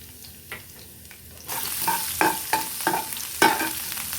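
Spices sizzle and fry in a pan for palak paneer while a utensil stirs them with repeated scraping strokes; the sizzle grows louder partway through.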